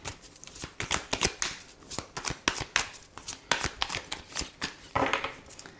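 Tarot cards are shuffled and cut by hand, a quick run of soft, close riffling flicks and slaps in an uneven rhythm, with no talking.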